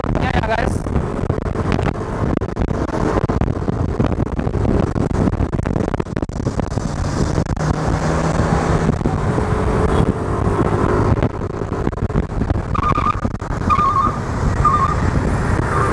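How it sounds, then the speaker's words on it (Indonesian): Yamaha Lexi LX 155 scooter (2024) pulling away and accelerating on the road, its engine buried under heavy wind buffeting and passing traffic noise, with a few faint beeps near the end. "kita tes untuk akselerasi dari motornya ya guys."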